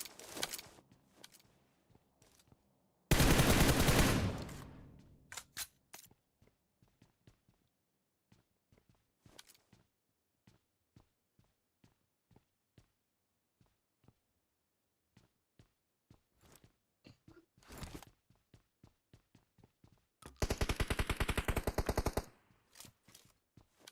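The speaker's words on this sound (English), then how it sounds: "multiple players, they are getting shots at them." Gunfire in an online shooter video game, with two long bursts of rapid automatic fire and scattered single shots and soft footsteps between them.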